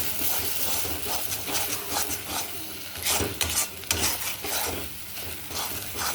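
Taro paste mixed with grated coconut is stirred and dried in a pan, giving a soft, continuous scraping and rubbing with a faint sizzle and a few knocks of a spoon. The sound is fairly quiet and no voice is heard.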